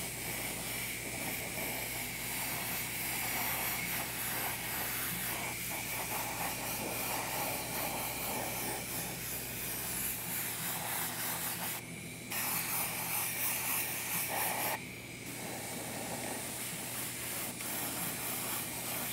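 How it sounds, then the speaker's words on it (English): Steady spray-paint hiss as pink paint is applied slowly to a quarter-scale Aquaman figure, a continuous close airy rush with two brief pauses near the end. "I sprayed that pink and I lost quite a bit of my shadow."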